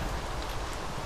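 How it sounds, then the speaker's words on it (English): Steady rain falling in the Minecraft video game, a dense even hiss with no voices over it. "Does it have to be raining?"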